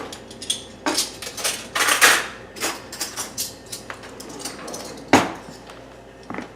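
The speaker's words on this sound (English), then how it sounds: "So if I put a couple spoons in, look at it." Several metal spoons clatter and clink sharply, a run of separate bright metallic hits with a louder one near the end, close by and with no talking.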